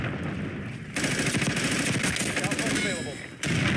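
Rapid automatic gunfire from a Call of Duty: Black Ops 6 multiplayer match, loud, dense bursts of rattling shots that fill the whole stretch with brief breaks, a voice faintly present underneath.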